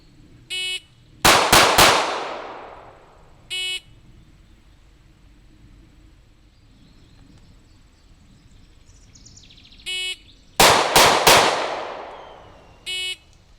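Two bursts of three rapid gunshots from a Springfield Hellcat handgun fired from the hip at 5 yards, each loud volley decaying quickly, with faint electronic beeps before and after each string.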